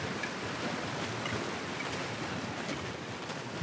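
Water rising in Rise of the Tomb Raider, heard as a continuous soft rushing and surging wash with a windy hiss that holds steady throughout, with a brief louder bump at the very end.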